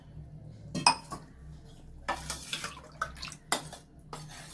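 Water is poured into an urad dal porridge mixture in a pot and stirred with a utensil, giving several separate bursts of splashing and metallic clinking over a low steady hum, close by with no talk.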